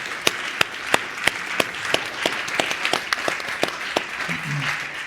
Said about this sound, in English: If you could just join me in a round of applause.